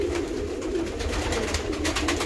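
Several pigeons coo in an evening loft, soft overlapping throaty rolls repeating steadily and close by, with no talking.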